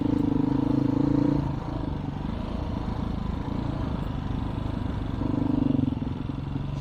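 Dual sport motorcycle riding, a close, steady engine drone with rumbling and clatter, rising a little in tone near the start and again toward the end.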